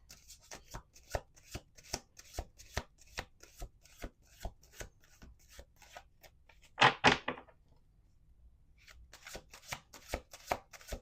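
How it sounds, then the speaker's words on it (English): Tarot cards being shuffled on a table, a steady run of crisp riffling clicks close by, ending in a louder flurry of riffles followed by a short quiet pause. "Let's do 2 more shuffles."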